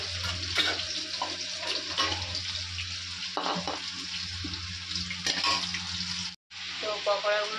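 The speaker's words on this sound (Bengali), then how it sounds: "পকোড়াগুলো ভাজছি এদিকে" Pakoras frying in a pan in a home kitchen, a steady crackling sizzle running throughout with clinks of stirring and a brief dropout near the end.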